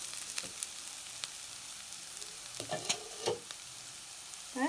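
Potatoes fry with dried chillies and curry leaves in a pan, giving a soft, steady sizzle with a few sharp stirring clicks and scrapes near the end.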